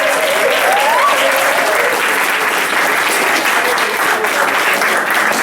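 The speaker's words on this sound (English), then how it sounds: "just one more thanks and round of applause to our team from U of M Semester in Detroit." An audience at a Detroit community stage event claps in sustained, even applause, loud and close, with a brief whoop rising early on.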